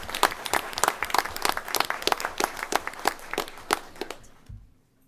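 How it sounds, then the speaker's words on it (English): Applause from an audience at a school board meeting, a patter of many hands clapping at moderate distance, steady for about four seconds before tapering off and stopping near the end. "So let's give her a round of applause."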